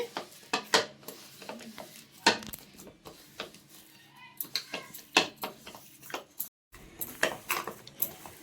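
Flour dough for an old-style payasam being mixed by hand in a vessel: irregular close knocks, scrapes and clinks of a utensil against the pot, coming in uneven bursts with short pauses.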